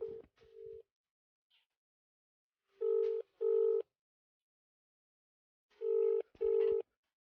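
A phone ringback tone purrs in steady double pulses, two pairs separated by silence, after a brief opening tone, clear and close.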